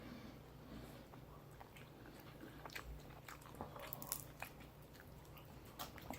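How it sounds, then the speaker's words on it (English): Teeth crunch into the crispy skin of a Cajun air-fried turkey leg, giving several close, faint crackly bites and chewing sounds with no talk. "You hear that crunchy skin?"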